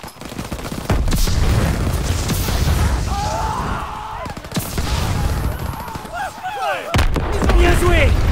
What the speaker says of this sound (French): J'envoie une grenade.